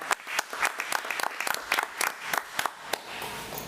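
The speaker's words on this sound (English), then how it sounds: "Let's give Mr. Hires another round of applause" A meeting audience at a county school committee session gives another round of applause, several sharp claps spiking above a softer steady patter for a few seconds.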